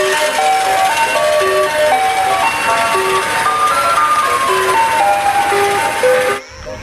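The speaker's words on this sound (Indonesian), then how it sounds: "Di sini ada mobil es krim." A toy ice cream truck plays its chiming jingle loudly and continuously, a bright looping melody that cuts off abruptly near the end.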